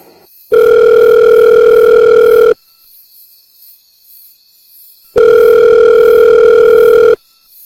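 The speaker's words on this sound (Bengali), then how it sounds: "মহিম বিমলকে ফোন করল" A telephone rings out in two long, loud tonal bursts separated by a few seconds of silence, steady and electronic.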